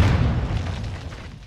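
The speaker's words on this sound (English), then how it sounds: "Friendly cruise missile approaching target." A cruise missile strike in Modern Warfare 2 lands as a single heavy, booming explosion, loud and close, with a deep rumble that decays steadily over about a second and a half.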